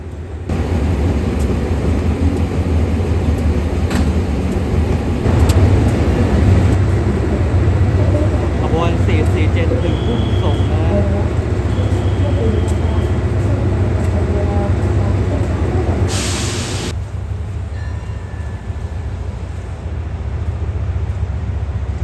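Rapid train 167 pulls away from Thung Song Junction in Thailand, and a steady loud rumble of wheels and engine runs throughout with faint clicks and a brief hiss.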